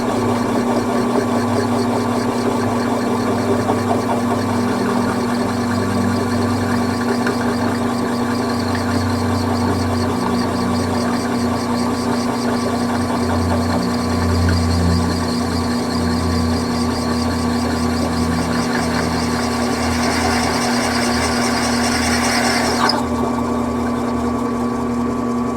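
A drill bit bores slowly through a 2JZ valve cover, a steady continuous whirring hum with a constant tone running unbroken throughout, close and fairly loud, no speech.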